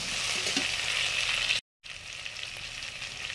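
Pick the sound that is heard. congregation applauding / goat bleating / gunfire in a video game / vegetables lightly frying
vegetables lightly frying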